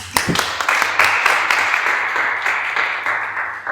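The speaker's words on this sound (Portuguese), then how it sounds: "Uma salva de palmas." Applause from a church gathering audience, a dense wash of many hands clapping steadily and fairly loud throughout, with a few voices mixed in underneath.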